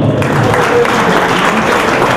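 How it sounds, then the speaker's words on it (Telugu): Audience applause at a 25th-anniversary celebration gathering, a dense, steady wash of clapping that runs loudly and continuously through the whole moment without any voices. "మరొకసారి మీరు సహకరించాలి చప్పట్లతో"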